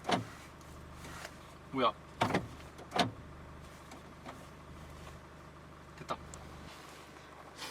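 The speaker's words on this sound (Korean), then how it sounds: "운전석에서 이거를 그냥 잠가야 돼요" Door locks on a new Hyundai Porter 2 truck (Smart trim) are worked from the driver's seat, giving a few sharp mechanical clunks and whirs inside the cab, with people talking over a low idle.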